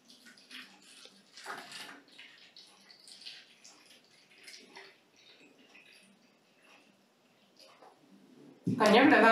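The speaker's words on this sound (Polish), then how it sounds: "Do jednej z butelek wlewamy wodę." Water is poured into a plastic bottle during a children's water experiment. Soft rustling and quiet talk come first, then a short, loud gush of pouring right at the end.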